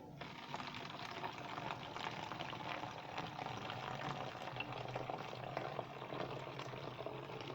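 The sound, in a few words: water being poured into a mixture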